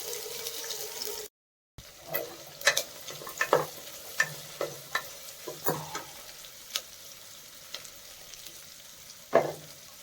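Finely chopped onion hitting a pan with black pepper for mint pulao: a brief silent gap, then a soft steady sizzle broken by a series of distinct stirring clinks and scrapes, close and alone.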